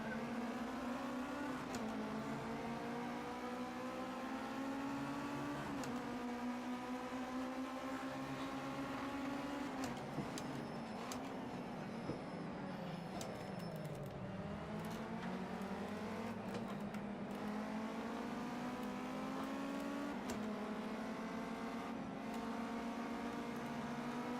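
Race car engines at the start of a GT5 Cup race in Project CARS 2 drone and climb in pitch through repeated gear changes, a dense pack of engines held at a steady, fairly faint level with no talk over them.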